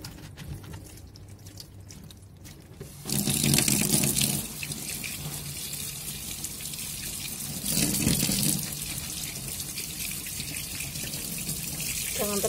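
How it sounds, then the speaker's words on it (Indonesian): A kitchen tap runs in a gentle stream while quail eggs are washed under it, steady splashing with a couple of brief louder surges as the flow hits the eggs and sink, close by and with no talking. "Jangan terlalu keras airnya, kecil-kecil aja, kita juga harus menghemat air."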